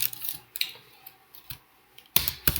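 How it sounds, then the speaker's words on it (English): Fingers typing on a computer keyboard to enter a product search, in a few short bursts of soft clicks separated by pauses, with a denser, louder flurry near the end. "Let's type in"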